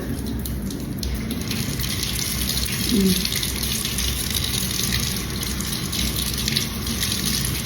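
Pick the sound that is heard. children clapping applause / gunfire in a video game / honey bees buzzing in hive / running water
running water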